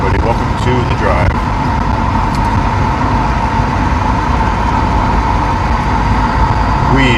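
Steady, loud interior road noise from a moving car, a dense low rumble and hum that holds constant throughout, with a person talking over it at the start and end.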